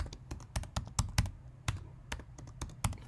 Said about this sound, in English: so if I type